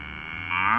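A single cow gives a short, close moo that rises and swells toward the end.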